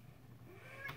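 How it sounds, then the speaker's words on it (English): A pet cat gives a single soft meow near the end of a quiet moment, faint against low background noise. "It's my kitty."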